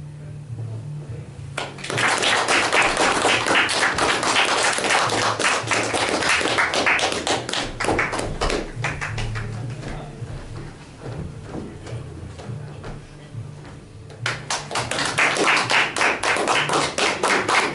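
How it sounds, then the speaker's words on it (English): An audience applauds after an improv theatre show with sustained, fairly loud clapping. It thins briefly near the middle, then swells again toward the end. "A round of applause!"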